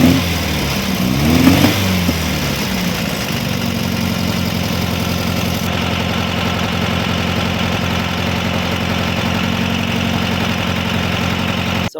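A 1968 Volkswagen engine fires up with a few uneven revs, then settles into a steady, loud, close idle with a constant rhythmic drone that carries on alone.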